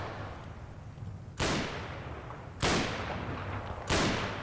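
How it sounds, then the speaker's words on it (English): Gunfire in Combat Mission: Battle for Normandy, with three sharp, loud reports spaced roughly a second apart over a low rumbling battlefield background. "At least we're putting some suppressive fire on this guy now."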